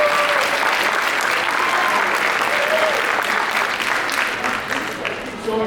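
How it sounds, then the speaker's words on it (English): A full audience applauds the singers at a winter concert in New Hyde Park, dense sustained clapping that holds steady and then thins slightly near the end, with faint voices mixed in. "So let's once again give them a round of applause"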